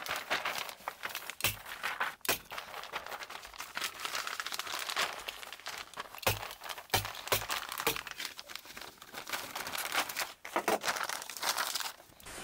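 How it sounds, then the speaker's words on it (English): Plastic vapor barrier being stapled off during a home renovation: close, busy crinkling and rustling of the sheet broken by sharp snapping staple clicks at irregular intervals. "we'll just uh, finish stapling this off"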